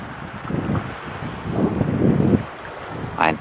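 Sea waves and surf rushing at a shore by a fishing harbour near Andenes on the Lofoten coast of Norway, a steady broadband wash swelling in two surges, with wind buffeting the microphone throughout.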